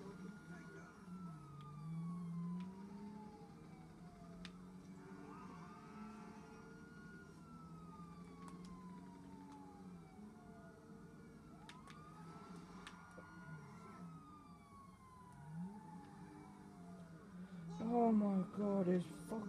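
A video game police car siren wails in repeated rising and falling sweeps, moderately loud over engine rumble, with a burst of louder noise near the end.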